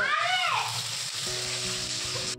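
Hot oil sizzles and spatters in a pan in a home kitchen, a loud, close, continuous hiss with crackling bursts, accompanied by some clinking.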